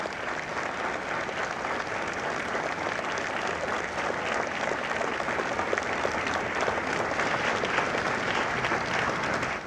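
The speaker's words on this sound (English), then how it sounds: "Ladies and gentlemen, a round of applause for their dedicated service to Corps and country." Sustained, full applause from a large audience at a Marine Corps recruit graduation ceremony in San Diego, steady and dense for the whole stretch with some crowd noise mixed in.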